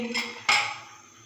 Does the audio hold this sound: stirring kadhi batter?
yes